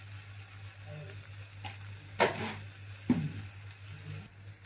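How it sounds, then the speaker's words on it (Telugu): Tomatoes fry in a pan for a Telugu alchanthakaya curry, with a soft, steady sizzle and a couple of sharp stirring scrapes, fairly quiet throughout. "టమాటా కొంచెం ఫ్రై అయింది"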